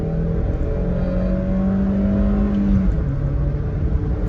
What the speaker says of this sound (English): I can accelerate up to 50 miles an hour and then slam the brakes on